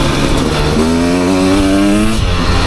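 A 2024 Beta 300 RR Race Edition two-stroke dirt bike engine runs loud and close while riding, rising in pitch as the throttle opens, then dropping sharply as it backs off.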